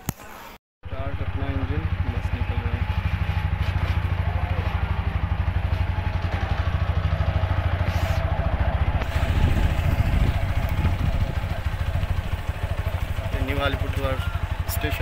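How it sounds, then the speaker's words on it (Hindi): A vehicle engine near Alipurduar station in Assam cranks after a brief silence, then settles into a steady, close idle that runs for the rest of the stretch, with people talking over it. "इंजन में हो गया स्टार्ट।"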